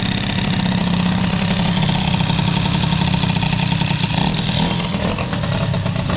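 A Peugeot 103 moped with an air-cooled Airsal 65 cylinder, its small two-stroke engine buzzing loud and close, revving high and struggling to settle back to idle, racing unsteadily throughout.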